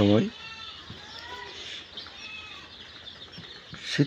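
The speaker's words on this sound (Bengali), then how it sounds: "আমি আমার খামারে আবারও মুরগির বাচ্চা উঠিয়েছি" Young broiler chicks in a poultry farm brooding pen during winter, peeping faintly and steadily in the background with brief flapping bursts, while someone talks over them.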